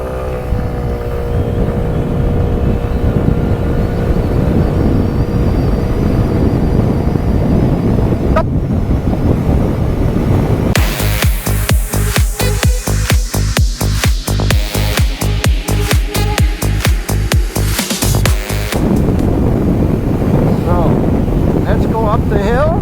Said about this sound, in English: We have full throttle here on